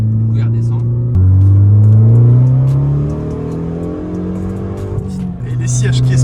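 A turbocharged car engine revving hard near its rev limiter at full boost, heard from inside the cabin, with rising pitch sweeps, a drop and renewed climbs under steady close engine roar as people talk over it.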